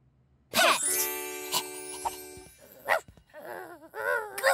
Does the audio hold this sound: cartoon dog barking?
yes